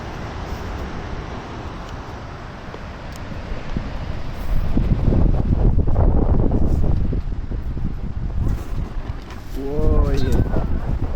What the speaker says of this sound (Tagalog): Lumakas na yung hangin.